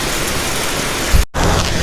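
Heavy rain with strong wind in South Bogor, a loud, dense, steady roar of falling rain close by, with a brief thump and a momentary dropout near the middle.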